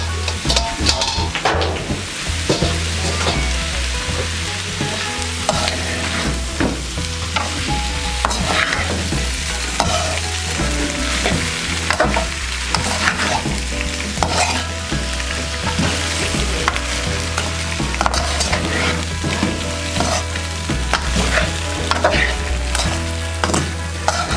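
Three kinds of noodles frying and being stirred in a hot pan for homemade noodles, a steady loud sizzle with repeated scraping stir strokes throughout, no talking.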